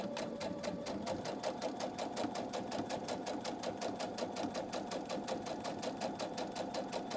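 A sewing machine runs steadily, stitching a straight quarter-inch seam through fabric for a flying geese quilt block, with a fast, even needle rhythm close up and no pauses.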